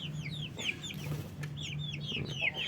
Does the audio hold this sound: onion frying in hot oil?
no